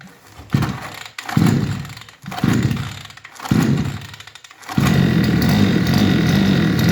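Petrol grass trimmer with a starting fault being pull-started after a little fuel is added: four loud separate rasping pull-cord strokes, then a steady running engine roar for the last two seconds, close by with no talk.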